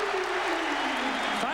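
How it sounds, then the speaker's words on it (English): An NBA basketball arena crowd cheering at a Sacramento Kings versus Philadelphia 76ers game: a steady roar and applause under a commentator's voice. "Finally, some excitement from this crowd."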